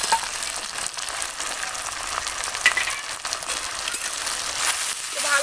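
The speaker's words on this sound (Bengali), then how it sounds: "ভালো করে মশলাটা আমি কষিয়ে নেব কাঁচা গন্ধ চলে যাওয়া অবধি" A masala of cumin, coriander, ginger paste and chopped tomato fries in a pan for a spicy curry of snakehead fish, with a steady loud sizzle and some stirring throughout.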